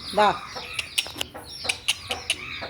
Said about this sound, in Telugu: చూసారా ఫ్రెండ్స్ ఎలా ఉందో కోడి